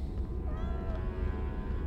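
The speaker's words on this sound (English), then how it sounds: "the tiniest cat of all time" A tiny cat in the Harry Potter and the Philosopher's Stone PS1 game gives a short high meow rising then falling, heard over a low steady game background hum.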